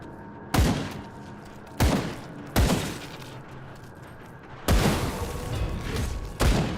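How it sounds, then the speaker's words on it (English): Shotgun blasts in the action RPG Grim Dawn, five heavy booming shots at uneven intervals, each followed by a decaying crackle over a constant background of game ambience. "I'm using a shotgun to shoot a fly"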